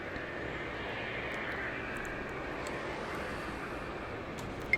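In the airport simulation game Tower!3D Pro, an airliner's jet engines give a steady, moderately distant roar as it takes off, with no voices heard.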